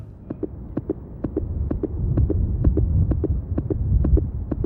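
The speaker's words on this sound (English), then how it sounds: "the heartbeats here are almost out of control" Heartbeat sound effect from the Twilight Syndrome horror video game: rapid, evenly paced double thumps pulse over a low droning hum, loud and continuous with no voices.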